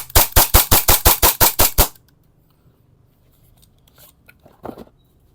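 A WE 5.1K blaster fires a rapid burst of about nine sharp, loud shots in even rhythm, then stops, leaving near silence with a few faint clicks and handling noises.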